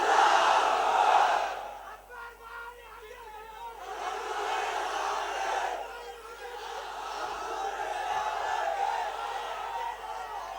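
A large political rally crowd roars back a chanted slogan in unison, loud and sustained cries that swell, dip briefly, then rise again in a second long massed shout.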